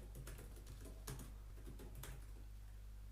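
Steady computer keyboard typing while writing code, with irregular clusters of close, crisp key clicks over a constant low electrical hum and no talk.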